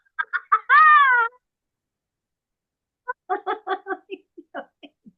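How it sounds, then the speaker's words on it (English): A seagull calls on a beach with a loud, drawn-out descending cry, preceded by a few short barking notes and followed after a pause by a choppy run of clipped calls. "One of those seagulls on the beach made that noise."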